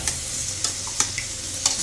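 Beaten egg mixture for a simple egg thoran is stirred in a hot pan, giving a soft continuous sizzle broken by several sharp scraping strokes of the spoon at an irregular pace, close up.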